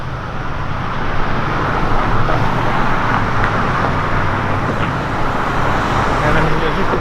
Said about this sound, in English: there's a good amount of traffic here on a Saturday morning